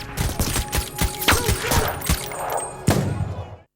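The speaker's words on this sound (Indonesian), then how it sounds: "tiba-tiba ditembak oleh sniper" A sniper shot in a film about robbing a feared drug cartel lands among rapid thuds and bursts of gunfire-like impacts, with one sharper, louder crack near the end before the sound cuts out.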